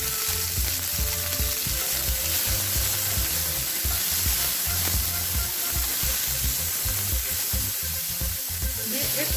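Shredded cabbage fries in a hot pan while being tossed and stirred, producing a loud continuous sizzle with repeated rhythmic scraping thumps of the utensil close by, without any talking.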